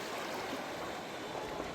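River water flowing into the sea at a Panamanian beach, a steady broadband wash of stream and surf noise that stays even and fairly faint throughout, with no voices.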